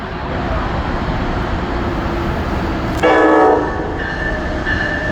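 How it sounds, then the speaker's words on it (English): An Amtrak passenger train with a Siemens ACS-64 electric locomotive rumbles past close by at New Rochelle with steady clattering noise, and a loud horn blast sounds partway through. "And here's an Amtrak train."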